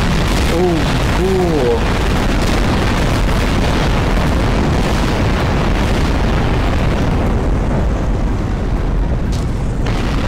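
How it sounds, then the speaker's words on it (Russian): Explosions erupt in the Garry's Mod video game, a loud, dense, continuous rumble of booms and blasts filling the whole stretch, with a brief voice audible early on. "она сейчас взрывается и взрывается"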